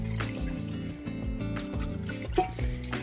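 Adobo sauce poured over beef spareribs in a pot, a steady liquid trickle and splash close by, heard over a faint musical background.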